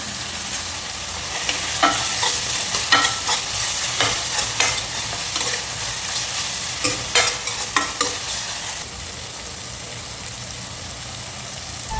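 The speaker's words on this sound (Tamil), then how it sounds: "பட்டை கிராம்பு ஏலக்காய் எல்லாத்தையும் போட்டுங்க" Whole cinnamon, cloves and cardamom fry in hot oil for a chicken gravy, a continuous close sizzle broken by repeated scraping stirs and clicks of a spoon against the pan.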